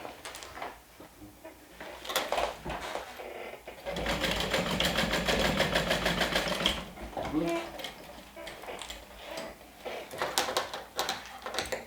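A sewing machine topstitches fabric for sportswear in close, loud bursts of rapid mechanical whirring, with one long sustained run in the middle between shorter starts and stops.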